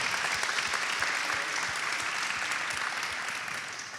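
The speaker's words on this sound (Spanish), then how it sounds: "Vamos, sí, aplausos." Audience at a startup founders' panel podcast event applauds steadily for about four seconds, dense clapping fading slightly at the end, no voices over it.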